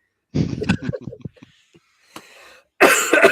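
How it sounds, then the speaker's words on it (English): A short burst of harsh coughing after some throat-clearing noises, close and loud, ending in a dense rough cough. "And then I have a coughing fit."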